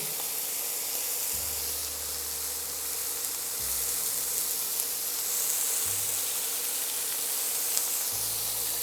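Pork browns in oil in a pan, giving a steady, soft sizzle and hiss with a low hum beneath it and no talking.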